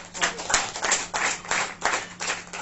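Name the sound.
congregation clapping hands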